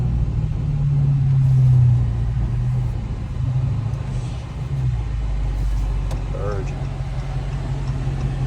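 A Dodge Hellcat's engine rumbles low and steady while the car drives, swelling slightly early on, with muffled voices talking inside the cabin.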